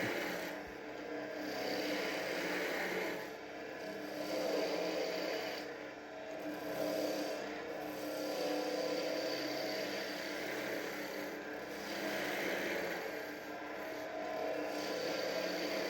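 A wood lathe spins a birdhouse ornament while a skew chisel shaves excess wood from the finial, giving a steady broadband hiss of cutting over the motor's drone, with a few brief dips as the tool eases off.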